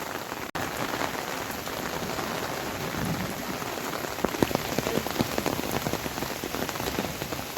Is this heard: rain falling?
yes